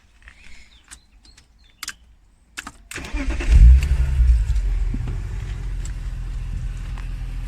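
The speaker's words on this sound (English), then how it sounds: "Okay, we're now going to start the car." A 1996 BMW E36 M3 Evolution convertible with a 3.2-litre engine is started: a few quiet clicks, then the starter cranks and the engine catches with a loud low surge before settling into a steady idle, heard close by.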